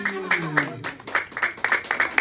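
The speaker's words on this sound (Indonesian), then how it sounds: "Tepuk tangan lagi" Applause at a child's tenth birthday party with a clown entertaining, a few bursts of hand clapping mixed with voices and a falling sung tone at the start.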